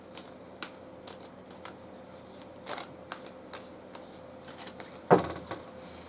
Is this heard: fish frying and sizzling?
no